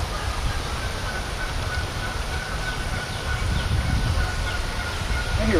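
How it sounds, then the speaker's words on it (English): A flock of geese calls outdoors, producing faint, distant, scattered honking over a steady background hiss and low rumble, with no clear speech. "I hear a bunch of geese."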